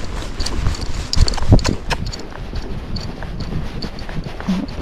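A Standardbred horse walks through mud on a trail, its hooves landing in uneven, squelching thuds close by over a rustling outdoor background.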